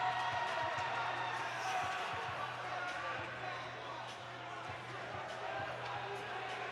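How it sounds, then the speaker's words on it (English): A crowd at a high school ice hockey game in a rink roars steadily, a broad, sustained cheer filling the arena with scattered thumps, while an announcer talks over it. "And the crowd is revved up."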